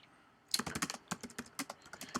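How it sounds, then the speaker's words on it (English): Rapid keystrokes on a computer keyboard while entering post content in WordPress, close and crisp, starting after a brief quiet moment and continuing in an uneven rhythm of distinct clicks. "and keep on typing your content"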